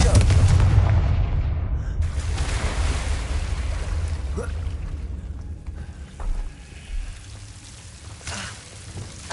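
A Confringo fire spell explodes in the Hogwarts Legacy video game with a heavy booming blast at the start. The rumbling decay trails off over several seconds, and faint scattered game sounds follow.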